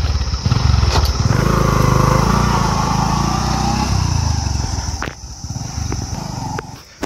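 A motorcycle rides a muddy forest track in Bir Aishwan Wildlife Sanctuary near Sangrur, Punjab. Its engine drones loud and close, revving steadily, then eases off, with a sharp knock at the end.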